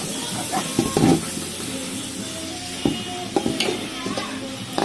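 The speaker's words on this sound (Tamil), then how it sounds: "நல்லா வதக்க ஆரம்பிச்சிருவோம்" Onions, turmeric and salt sautéing in a pan for mutton biryani sizzle steadily up close, with occasional clinks and scrapes of a stirring spoon against the pan.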